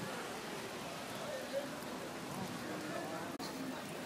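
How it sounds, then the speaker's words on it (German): Steady rain falls in Hamburg as a dense, even hiss of drops on surfaces, with a brief sharp knock near the end. "Immer wenn ich in Hamburg bin, regnet's."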